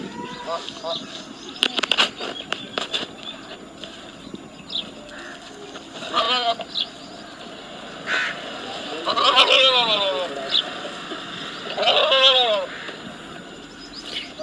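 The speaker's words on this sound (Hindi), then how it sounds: "यहाँ पे काफ़ी सारे बकरियों को रेवड़ खड़ा है, आप यहाँ पे देख सकते हैं।" A herd of goats in a village bleats in several wavering calls, some near and some farther off, over a quiet outdoor background while someone talks intermittently.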